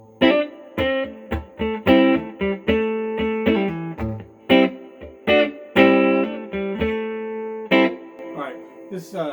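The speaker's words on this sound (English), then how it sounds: "now with the reverb" Electric guitar, a PRS Custom 22 with 5708 pickups through a reverb pedal, plays a phrase of single notes and chords, each note ringing out and blending into a soft trailing wash.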